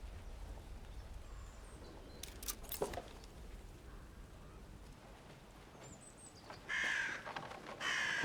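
Crows caw in the Atomfall video game, with rough bursts heard faintly inside a cellar against a low rumbling ambience, followed by louder caws near the end.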